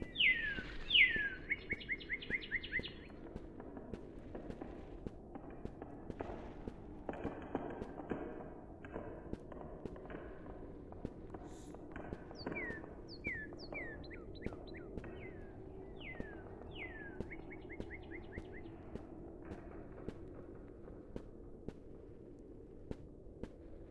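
Bright, chirping bird calls come in short trilling bursts at the start and again in the middle, faint against a quiet ambient background of soft footsteps in a bird-watching video game.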